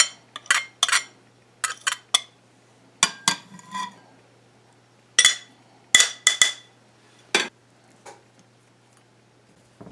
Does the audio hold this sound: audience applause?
no